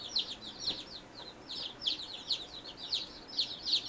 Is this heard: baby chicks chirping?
yes